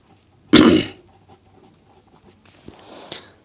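Marker or chalk writing out maths equations on a classroom board: one firm squeaky scrawl near the start, then quieter scratchy strokes a couple of seconds later, with no talking.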